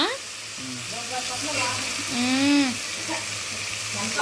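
Tomato pieces sizzling and frying in a pan while being stirred, a steady crackling hiss with scraping movements, and someone speaking over the cooking.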